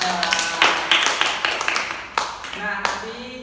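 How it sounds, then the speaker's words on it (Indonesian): A classroom group claps hands in short uneven bursts during a microteaching lesson, sharp slaps overlapping under voices that talk and cheer throughout. "Tepuk tangan buat kita."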